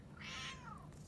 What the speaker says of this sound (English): Big meow yawn.